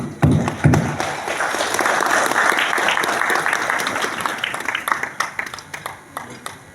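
Audience at a community gathering and Halal Bihalal event applauds loudly and steadily for several seconds, dense clapping with a few sharper individual claps standing out as it tapers near the end.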